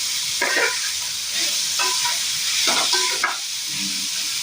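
Grated potato, washed clean, frying in a pan while being stirred, giving a steady sizzle with several soft scraping strokes spread across the stretch.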